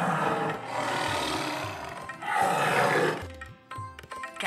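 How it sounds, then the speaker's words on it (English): A tiger roars in bursts, loud rasping growls rising and falling in two main swells, followed by quieter short grunts near the end, heard alone without talk. "This is a tiger. And this is what it sounds like."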